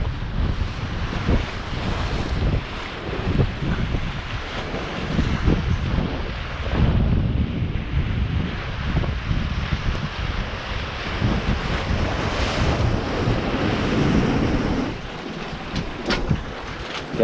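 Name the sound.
sea waves and wind at the shore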